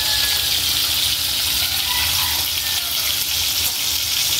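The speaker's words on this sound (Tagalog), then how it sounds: "Lagyan po siya ng tubig mga idol." Water is poured into a pan of sautéed mixed vegetables, making a steady, loud gushing and sizzling hiss that continues unbroken and close up.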